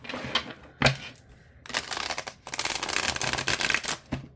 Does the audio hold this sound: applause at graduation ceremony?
no